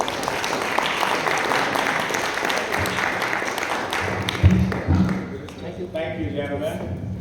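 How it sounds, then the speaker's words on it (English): Audience applause for a panel at a sustainable finance event, a broad steady patter of many hands that thins out toward the end while voices talk over it. "can I have a round of applause for the panel, please?"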